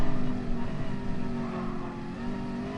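Race car engines in Gran Turismo Sport, a steady loud drone with harmonic whine as a rival slipstreams and flies past during an endurance championship race, sustained throughout without speech.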